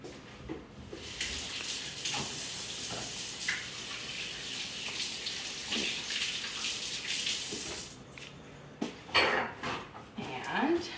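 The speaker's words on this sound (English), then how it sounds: "I'm gonna give my hands a quick wash." Tap water runs steadily into a kitchen sink as hands are washed, a moderate continuous splashing rush that cuts off near the end, followed by a few faint clinks.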